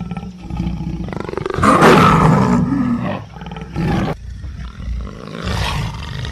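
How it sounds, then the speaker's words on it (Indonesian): A female jaguar in a film scene lets out loud, close roars in several surging bursts, the strongest in the middle, with rumbling growls between them and no talking. "tiba-tiba saja ada seekor jaguar betina menatap marah ke arahnya"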